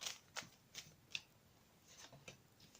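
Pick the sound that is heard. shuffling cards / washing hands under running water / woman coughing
shuffling cards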